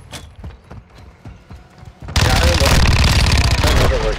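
Battle rifle gunfire in the video game Call of Duty: Modern Warfare II: a couple of seconds of light clicking taps, then a sudden loud, dense burst of shots that carries on to the end.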